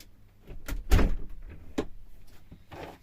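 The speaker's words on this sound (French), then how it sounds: "Attends, je ferme la porte." A door is shut in a craft cabin, a few knocks and sliding scrapes followed by a solid close, then quieter rustling, close and without talk.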